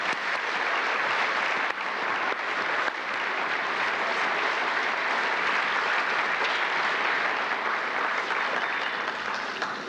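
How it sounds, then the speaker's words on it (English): A high school graduation audience in 1998 applauds award recipients, giving sustained, loud clapping that fills the hall without a break for the full ten seconds. "Let's give them a big round of applause, and let's continue till they're off the stage."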